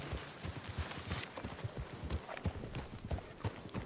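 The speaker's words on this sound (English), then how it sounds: "There's a horse back here. With a Black one back here." Black horse's hooves clip-clopping steadily in a ranch roleplay video game, a close, even rhythm of soft thuds repeating about twice a second with faint background ambience.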